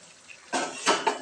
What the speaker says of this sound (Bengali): 5 মিনিট হয়ে গেছে, ঢাকাটা আমি খুলবো।